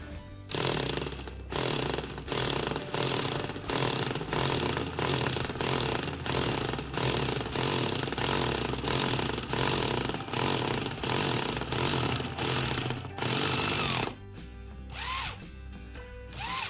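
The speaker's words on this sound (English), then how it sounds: "that's the hole drilled and the pipe through the wall" A hole is drilled through a wall for a water pipe in a summer kitchen, a loud hammering drill pounding in a steady rapid rhythm for about fourteen seconds with brief pauses, then stopping.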